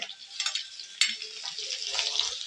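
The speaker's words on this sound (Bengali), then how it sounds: "এবার এগুলোকে একসাথে ভেজে নেব" Chopped carrots and beans frying together in a wok with a steady, close hiss, broken by a couple of brief scraping stirs.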